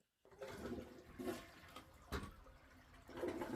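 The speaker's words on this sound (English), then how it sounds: "Flush the toilet a couple of times to ensure everything is working and leak-free." A newly installed toilet flushes, a rushing swirl of water that churns steadily and surges again near the end, quiet and indoors with no voices.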